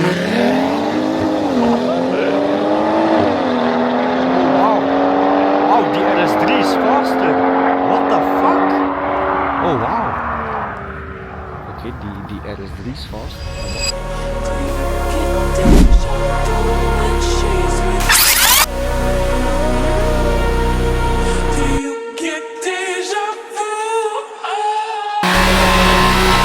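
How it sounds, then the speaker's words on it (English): Cars drifting at an illegal car meeting in Belgium, engines revving and wailing at high pitch with long tire squeals, then a louder, rougher stretch of revving and skidding nearby, with voices talking over it. "the boys are still drifting and driving over there"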